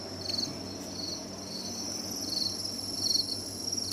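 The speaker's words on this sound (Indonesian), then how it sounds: "ini ada jangkrik alam." Field crickets chirp close by in shrill, high trills that pulse in quick bursts over a low background hum, with no voices.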